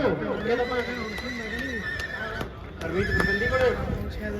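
A horse neighs in quavering whinnies at the Hanumangarh fair show ring, one drawn-out call early and another later, close by, while someone talks over the sound.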